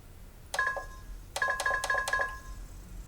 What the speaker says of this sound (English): So just got a standard sound saying that there's no disc inside.